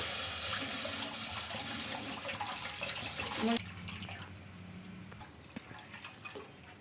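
Water splashes and pours into a greasy kadai (wok) being cleaned, lasting a few seconds, then stops, leaving scattered drips and small clinks.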